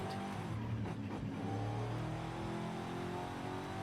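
A car pulls away from a start in second gear, its engine holding a steady, fairly loud drone close by from start to finish.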